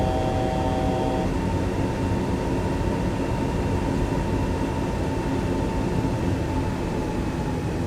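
An Airbus A320's jet engines hold climb thrust in the X-Plane 11 flight simulator, producing a loud, steady broadband roar with a faint tone near the start.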